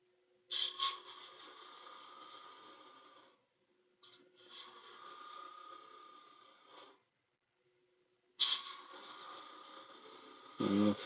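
A wooden edge being sanded by hand in a workshop: three rasping strokes of several seconds each, separated by short pauses, close and fairly loud, with a brief bump at the end.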